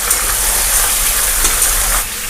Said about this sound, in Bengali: এখানে মাংস যতক্ষণ ভাজা হবে,